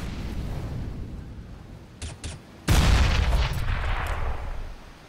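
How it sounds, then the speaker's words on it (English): Incendiary grenade igniting in a Counter-Strike match, a sudden loud burst of roaring fire noise that swells and crackles, preceded by a couple of short clinking taps and settling into a steady burning rush. "Incendiary out."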